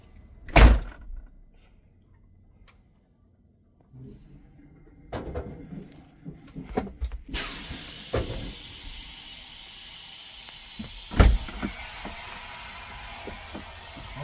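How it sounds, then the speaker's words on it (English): A truck cab door shuts with a sharp solid thump during an in-cab air brake inspection, followed by a second heavy slam later, while a steady loud hiss of escaping air fills the background. "Close the door."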